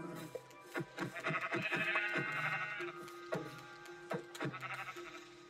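Sheep in the Minecraft video game bleat in a series of short wavering calls, several quick ones close together and then a few more spaced out, clear and close with no talking over them.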